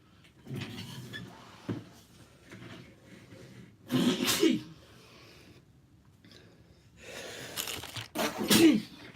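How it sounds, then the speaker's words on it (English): Two sharp, loud sneezes burst out several seconds apart close to the microphone, with softer breathing, sniffing and small indoor rustles between them. "now I'm sneezing everywhere"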